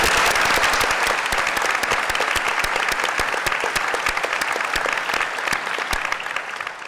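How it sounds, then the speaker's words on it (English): Audience at a state tourism summit breaks into loud, sustained applause, dense clapping that holds steady for several seconds and tapers slightly at the end. "Let's give him a round of applause."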